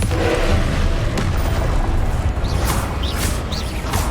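Booming blast of the Confringo spell in Hogwarts Legacy, a loud low rumble filling the clip with whooshing swishes toward the end.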